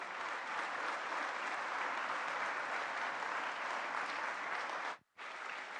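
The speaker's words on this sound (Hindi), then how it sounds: "तालियों की आवाज रुकनी नहीं चाहिए" Steady, dense audience applause fills a large hall after a prime minister's address, holding at an even level before a sudden brief cut and resuming.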